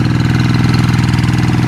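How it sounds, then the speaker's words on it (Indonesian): A rice paddy tractor engine runs loud and close, a steady low mechanical chugging with an even, rapid knocking rhythm and no voices over it. "setiap pergerakan untuk dalam pengolahan sawah melalui traktor ini"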